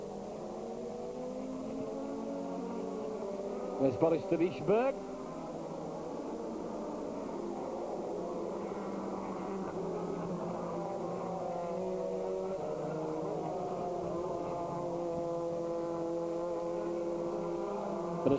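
A Paul Belmondo GT race car laps the Nürburgring, its engine a steady high drone with shifting pitch. A commentator speaks briefly over a short burst of noise.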